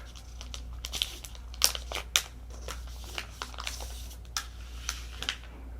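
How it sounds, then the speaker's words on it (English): Protective plastic film is peeled off a new TCL Tab 8 LE tablet, giving close, scattered crinkles and sharp crackles with a few louder snaps over a quiet background, with no talking. "Now let's go ahead and remove the plastic."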